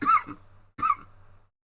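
Two short, rough coughs a fraction of a second apart, close and fairly loud, then quiet.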